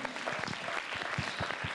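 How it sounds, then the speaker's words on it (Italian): An audience at a small festival event applauds a presenter; the clapping is faint, distant and steady, with a few individual claps standing out. "Ancora un applauso per Stefano Da Rossa"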